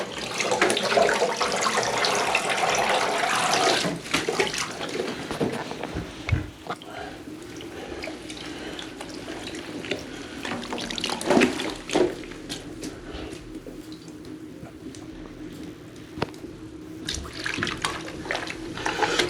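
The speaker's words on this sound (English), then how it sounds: "now I'm going to rinse the hide off in some Dawn dish detergent to clean off this hide." Water runs steadily from a tap as a deer hide is rinsed with Dawn dish detergent, a continuous wash of splashing with occasional louder gushes and brief handling sounds throughout.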